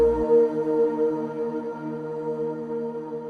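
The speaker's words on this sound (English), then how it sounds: "Play with the automation settings until you get your pad to sound like this." A sustained synth pad chord built in FL Studio swells and eases in level under volume automation, steady and smooth for a few seconds with no voices.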